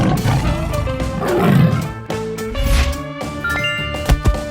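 Tiger roar from a 3D animal sliding game, a loud close growling roar that swells over a couple of seconds, followed by clunks and short game effects.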